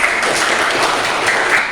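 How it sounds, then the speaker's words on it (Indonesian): Classroom applause for a student who answered a question: a dense, even burst of many hands clapping close by, filling the whole moment at a steady loud level with no talking. "Beri tepuk tangan untuk Tasya"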